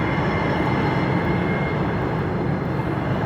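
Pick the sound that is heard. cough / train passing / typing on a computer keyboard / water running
train passing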